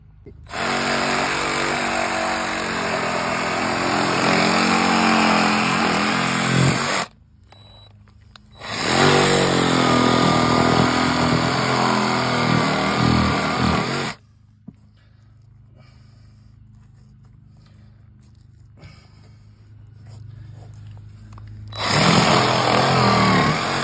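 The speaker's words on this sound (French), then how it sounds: "on va couper à la scie sabre le fourreau" A reciprocating saw cutting a plastic fiber-optic cable duct buzzes harshly in two long bursts with a quiet pause between them, starting up a third time at the end, recorded up close.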